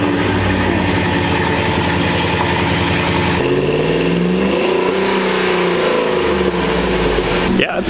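A Ford Raptor's 6.2-litre V8 with an upgraded exhaust revs and holds a loud, steady drone, its pitch shifting partway through as the engine note changes, close and continuous with no voices.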